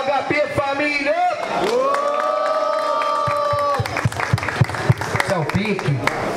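A crowd at a Rocinha rap battle semifinal cheers, claps and whoops loudly, with one high sustained whistle or shout, while a host's voice cuts in over the noise.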